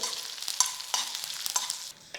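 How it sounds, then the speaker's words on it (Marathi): Mustard seeds, asafoetida, curry leaves, green chilies and white sesame crackle and sizzle in hot oil as a tempering for rava dhokla. The sizzling is close and steady, with sharp pops and stirring scrapes, and it fades near the end. "हिंग कढीपत्ता हिरव्या मिरच्या आणि पांढरे तीळ त्याला थोडंसं परतून घेऊ"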